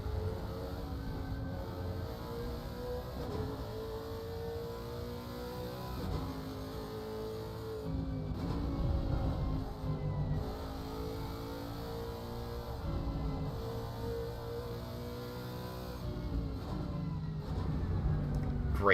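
Lexus GT race car engine in the Assetto Corsa Competizione racing game at Kyalami, with a steady, loud engine tone that rises and falls in pitch through gear changes and throttle lifts, heard alone without talk.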